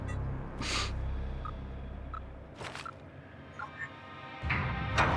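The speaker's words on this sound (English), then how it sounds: "So heavy breathing." Heavy breathing in Call of Duty: Infinite Warfare, a few loud, breathy inhale and exhale bursts spaced seconds apart, with faint electronic beeps between them.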